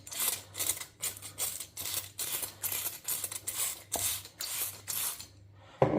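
Hand-pumped spray bottle misting water onto folded paper wrapped around palm seeds, about ten quick, evenly spaced hissing bursts, close and fairly quiet, with no voices.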